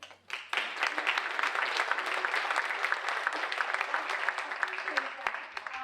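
Audience applause welcoming speakers at a talk on racial diversity, a dense steady wash of many hands clapping that swells in after a brief opening and holds strong throughout.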